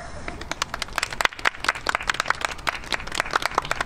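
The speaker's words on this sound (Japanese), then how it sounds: "どうぞ引き続き温かい拍手での応援をよろしくお願いいたします。" An outdoor crowd watching a monkey performance show applauds with steady, lively clapping of many hands throughout, fairly close and moderately loud.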